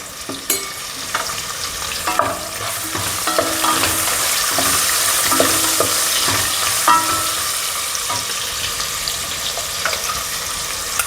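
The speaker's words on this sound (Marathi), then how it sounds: "चांगला हलवून घ्यायचं आहे तोंडले दोन मिनटं होऊन द्यायचे आहे" Ivy gourd with a little turmeric stirred and fried in a pan, steady crackling sizzle with repeated scraping and clinking stir strokes throughout, close and fairly loud, no talking.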